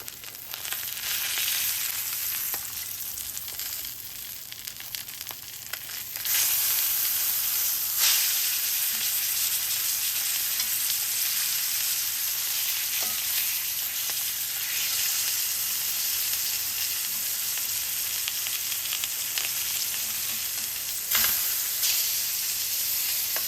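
Salmon fillet pan-searing skin-side after being flipped, a steady close sizzle and crackle of hot fat that rises in intensity partway through and holds continuous, with occasional sharper spits; no talking.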